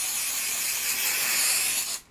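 An aerosol can hisses in one steady, close spray for about two seconds and then cuts off abruptly, applied to hold bedside storage in place, with no talking over it.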